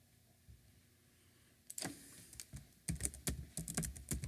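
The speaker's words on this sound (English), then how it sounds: "I'll type in Mark" Typing on a computer keyboard begins after a quiet stretch with a few soft clicks, then a quick irregular burst of close keystrokes, moderately faint.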